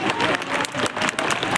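An audience applauds at a gathering, a dense, close burst of clapping with a few surges and dips in loudness across the short stretch, no voices standing out above it.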